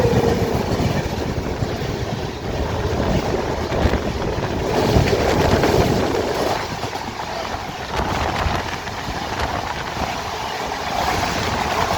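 Train rumbling past on the Nagpur outer, heard from aboard the Andhra Pradesh Express in second AC, a steady loud roar of running noise with no talk.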